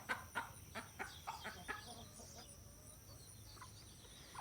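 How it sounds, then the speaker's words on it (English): Game hens clucking and squawking while fighting, a burst of sharp, fairly close calls early on that thins to scattered clucks, fairly faint overall. "There's some of my game hens."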